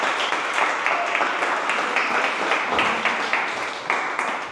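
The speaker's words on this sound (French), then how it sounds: "Est-ce qu'on peut vraiment applaudir pour l'association?" Audience applause for a student association at a gathering, a dense, continuous patter of many hands clapping at moderate volume, fairly close and steady, with no voices over it.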